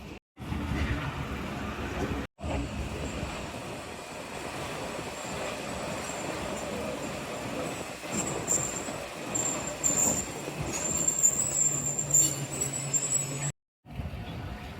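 Shalimar Express pulling out of Gojra station after a one-minute halt, heard from inside: a steady rumbling rolling roar with faint rail clatter and wheel noise, continuous and fairly loud, with brief dropouts.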